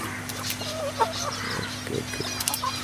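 Chickens at a poultry farm with nipple drinkers cluck softly and intermittently over a constant low mechanical hum.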